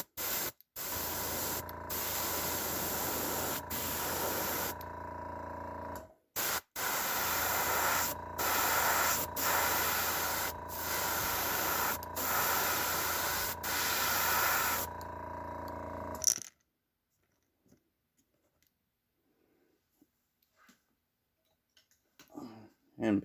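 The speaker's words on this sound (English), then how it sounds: "I am going to kind of spray over the sides" Steady airbrush hiss in long bursts, spraying black paint onto the sides of a squarebill fishing lure, with brief clicking pauses, running about sixteen seconds before near silence with faint handling noises.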